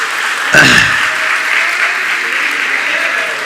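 An audience at a Hindi spiritual discourse breaks into loud, steady applause that starts abruptly and continues evenly as a dense wash of clapping for several seconds.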